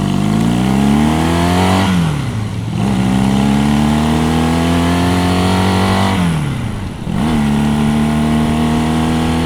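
An older motorcycle is ridden on a ride to Griffith Park, its engine droning loud and close, with two sharp dips where the revs drop and then climb again.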